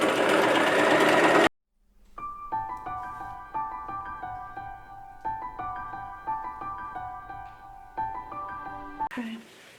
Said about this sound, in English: I'm going to use a zigzag stitch to kind of help hold that in place